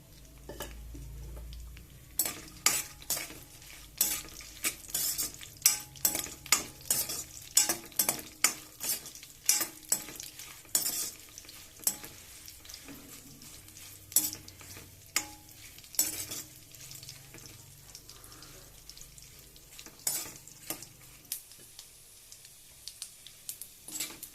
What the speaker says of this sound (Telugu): ఈ చిటపట అంటున్నప్పుడు మనం వడియాలు వేసుకోవాలండి